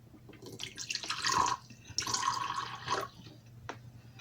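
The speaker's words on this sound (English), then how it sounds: "Now, I'm going to use filtered water because you don't want chlorinated water because it will kill the yeasts." Filtered water poured into a jar to start a sourdough starter, a close trickling, splashing pour in two bursts of about a second each, followed by a single faint drip.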